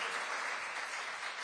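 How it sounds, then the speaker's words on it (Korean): Faint, steady applause from an audience at a book launch event, a dense wash of clapping that holds evenly throughout the short moment. "뜨거운 박수 부탁드리겠습니다"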